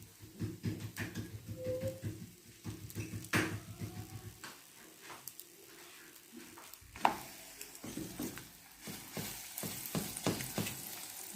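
Small Moroccan melwi flatbreads sizzle steadily in a hot pan, a close, continuous frying crackle with occasional light clinks and shifts of the pan and no talk.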